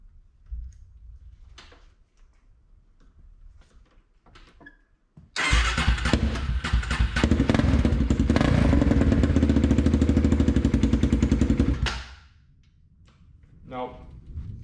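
A Polaris Predator 500 ATV engine cranks and catches with a loud burst, revs and runs roughly for about six seconds, then cuts out abruptly, leaving quiet handling noises and a brief faint tone afterward.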